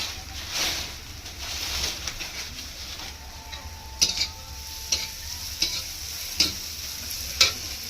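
Flattened rice (chira) frying with onion in a wok makes a soft, steady sizzle, with a series of sharp spatula scrapes and taps against the metal in the second half.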